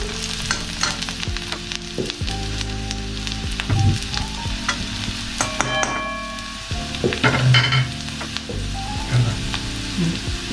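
Steady oily sizzling of green chilies frying in oil in a pan over a low flame, with occasional stirring scrapes and crackles, close up and fairly loud, no voices.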